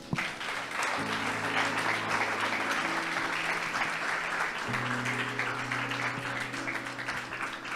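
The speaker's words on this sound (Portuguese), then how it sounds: "Aplauda Jesus." A church congregation applauds during a Portuguese-language sermon, sustained loud clapping with a sustained organ or keyboard chord underneath, continuing without pause.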